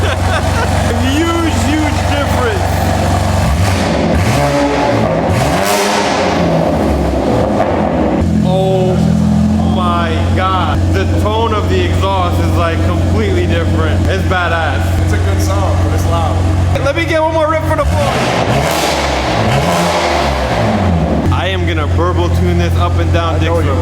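A 2024 BMW G80 M3 CS with a Valvetronic titanium exhaust revving loudly nearby, the engine note rising and falling in sweeps over a constant rumble, with people talking over it.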